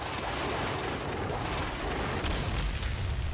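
Nebelwerfer rocket artillery fires in the Panzer Campaigns World War II strategy game, a dense, continuous roaring barrage that fills the clip at steady loudness before tapering slightly at the end.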